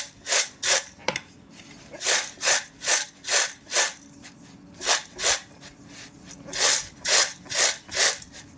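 Crispy fried spicy chana dal snack is tossed and mixed in a pan, giving repeated rhythmic dry rustling scrapes, about a dozen strokes close up, alone without talk.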